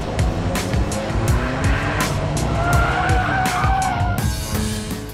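An Alfa Romeo 4C sports car roars loudly on track, its engine note rising and falling steadily, with tire squeal and skidding mixed into the continuous, close-up drive.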